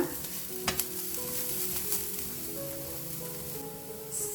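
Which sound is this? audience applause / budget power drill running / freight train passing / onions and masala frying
onions and masala frying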